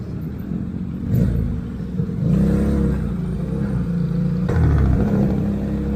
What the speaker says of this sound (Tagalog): Ganda tong motor na to.